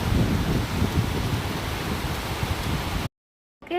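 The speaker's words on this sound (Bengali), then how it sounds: "আরো জোরে বৃষ্টি হচ্ছে" Heavy rain pours steadily and close by as a dense, loud hiss for about three seconds, then cuts off abruptly into silence.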